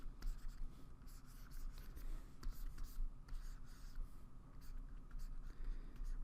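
Pencil tool scratching out a rough drawing, steady close scraping strokes with short repeated bursts and brief pauses, no voices.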